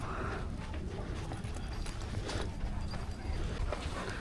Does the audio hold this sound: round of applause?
no